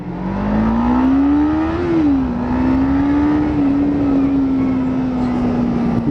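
Kawasaki Ninja 500R motorcycle engine running steadily close by, a continuous loud buzzing note that rises slightly, dips, then holds fairly even throughout, with no talk over it.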